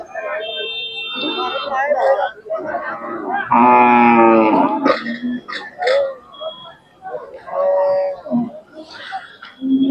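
A bull at a Khillar cattle market in Sangola, Solapur, gives a loud drawn-out moo near the middle, surrounded by people talking and scattered short livestock calls.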